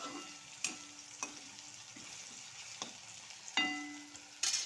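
Onion and tomato fry quietly in a pan for a potato curry, a soft low sizzle punctuated by occasional clinks and scrapes of stirring.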